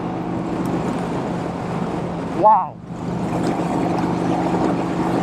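A Vincent Rapide motorcycle engine drones steadily in fourth gear while riding, a low continuous hum with wind rush, briefly interrupted by a short exclaimed voice before the engine note resumes.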